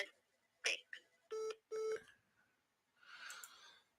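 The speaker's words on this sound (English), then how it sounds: "the phones are ringing off the hook right now" Office telephones on a live radio show, with short tonal bursts and steady electronic tones like dialing or ringing, interleaved with brief voice fragments and a softer noisy stretch near the end.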